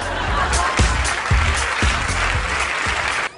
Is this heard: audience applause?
yes